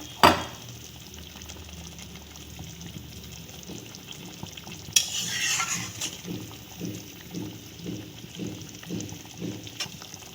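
Fish in a sweet-sour tamarind sauce simmering in a pan, a low bubbling with a steady run of soft rhythmic blips, a louder clatter near the start and a burst of hiss midway, no voices.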